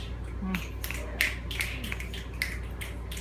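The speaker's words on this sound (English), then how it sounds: "Thank you for snapping." An audience at a slam poetry reading snaps their fingers in scattered, irregular clicks, several sharp snaps standing out over a soft room murmur.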